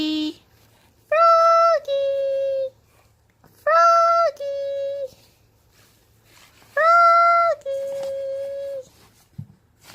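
A toddler of about 18 months imitates a cat, giving three drawn-out meows with a short pause between each, close and clear.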